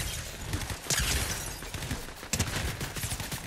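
Gunfire in the battle game Fortnite: a few sharp shots and short bursts, moderately loud, with scattered cracks over a busy background.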